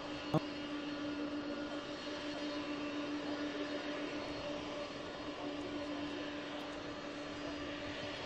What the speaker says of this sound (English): And now the airplane is turning around.